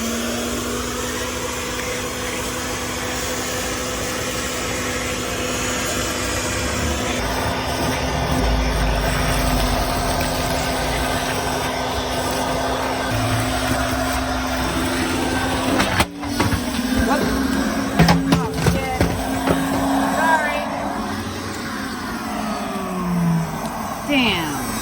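A favourite vacuum cleaner runs continuously with a steady droning whine and motor hum that shifts pitch midway, with scraping and bumping noises toward the end.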